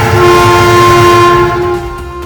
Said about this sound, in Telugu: దూరంలో రైలు వచ్చే శబ్దం వినపడింది